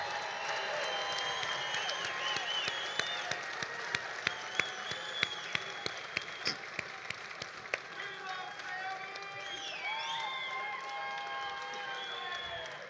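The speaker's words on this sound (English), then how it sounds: "Let's do one more huge round of applause for these Dream Team and Honor Flight representatives." An audience applauds loudly, a dense wash of clapping with scattered cheers and whoops, sustained for the whole stretch.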